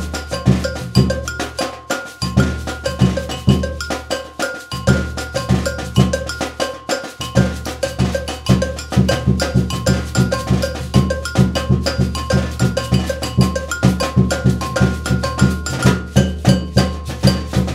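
A batucada percussion ensemble drives a maracatu rhythm, with booming bass drums, sharp bell strikes and dense snare-like chatter in a steady, loud groove that runs throughout without voices.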